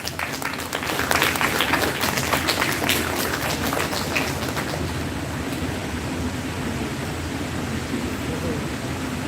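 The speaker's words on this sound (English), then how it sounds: "give your loud applause" Loud, dense applause fills an international conference hall on India's financial markets, a steady wash of many hands clapping with no pause throughout.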